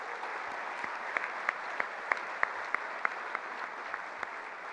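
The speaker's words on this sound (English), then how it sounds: "Can we give them one more really large round of applause?" Dinner guests at a chamber of commerce annual dinner give a sustained round of applause for honorees, a soft, even roar of many hands, a few sharper claps standing out nearby.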